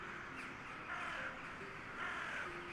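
In a video game scene, ravens caw several times, harsh and slightly hoarse calls spaced apart over a low, steady ambient background, with no speech.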